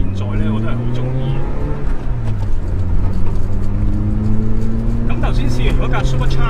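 A naturally aspirated Toyota MR2 AW11 engine drones steadily at close range, its pitch rising and falling with throttle, while someone talks over it.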